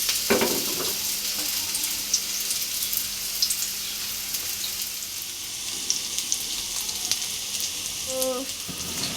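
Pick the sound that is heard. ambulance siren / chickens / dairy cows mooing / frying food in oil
frying food in oil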